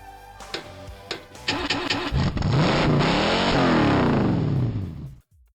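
Car engine revving in the racing video game Test Drive 6: a few short bursts, then a loud sustained rev whose pitch climbs, dips and climbs again before cutting off, with no talk over it.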